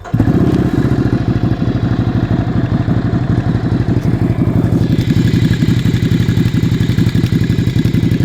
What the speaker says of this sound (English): But I'll start it up, let you hear it